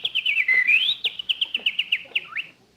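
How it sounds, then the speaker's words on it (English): A bird on a lawn gives a rapid series of clear whistled chirps and trills, close and fairly loud, in a lively broken rhythm against a quiet outdoor background. "Oh, Jack, look at that beautiful bird on your lawn."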